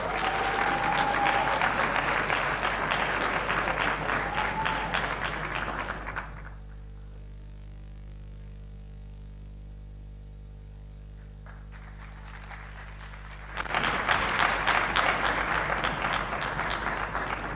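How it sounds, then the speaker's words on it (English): Warm applause from an audience welcoming Professor Achille Mbembe, a dense crowd clapping that breaks off into a quiet hum, then surges back just as loudly. "Please help me give a warm round of applause and a welcome to Professor Achille Mbembe."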